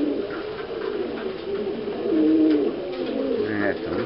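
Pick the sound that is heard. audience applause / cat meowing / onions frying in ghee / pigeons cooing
pigeons cooing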